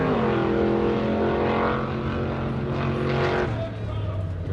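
Off-road race truck of the 4400 class with independent front and rear suspension, its engine revving loud and close as it launches off the line, pitch climbing then dropping as it shifts, with a commentator talking over it.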